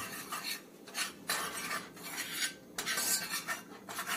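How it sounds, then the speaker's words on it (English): Butter and flour being stirred together in a pan: repeated rasping, scraping strokes in an uneven rhythm, close and fairly loud, with no talking. "Stir it in, mix with flour and butter together."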